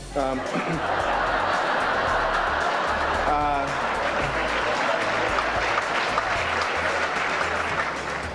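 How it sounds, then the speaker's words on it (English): Audience applause at a Texas Country Music Hall of Fame awards ceremony, a dense steady roar of clapping that holds throughout, with scattered chuckles and voices mixed in. "He's thrilled at that applause, by the way."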